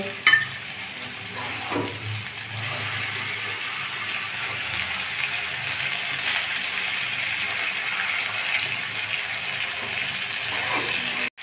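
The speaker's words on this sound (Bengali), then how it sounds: "এখন তেল ঝরিয়ে আমি তুলে নিচ্ছি একটা প্লেটে।" Whole eggplants deep-fried in oil, then lifted out and drained onto a plate, heard as a continuous loud close sizzle with a few scraping and clinking touches, no voices.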